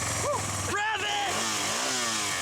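A motorcycle that had kept stalling because of a kinked fuel line runs with a loud, steady engine roar, while excited voices shout over it at close range.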